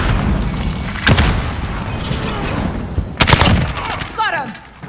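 A grenade blows up amid a Call of Duty: Modern Warfare multiplayer firefight: two loud, sharp blasts a couple of seconds apart ring out over constant battle noise, with a short radio-like voice near the end.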